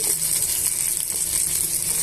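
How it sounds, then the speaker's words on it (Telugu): Tempering spices with curry leaves sizzle and crackle steadily in hot oil, a continuous close hiss with no talking. "ఈ పోపునంతా కూడా వేయించేసుకుందామండి"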